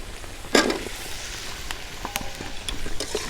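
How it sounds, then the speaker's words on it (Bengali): Fried potatoes and drumstick pieces drop into a sizzling mustard spice paste in a pan, with a sharp splash as they go in, then a steady close frying hiss and light stirring. "এবার আমি ভেজে রাখা আলু আর ডাঁটাগুলো দিয়ে দেবো।"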